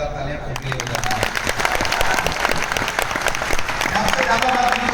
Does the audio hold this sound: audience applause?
yes